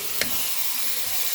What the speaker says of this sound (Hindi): इसको हम थोड़ा सा भून लेंगे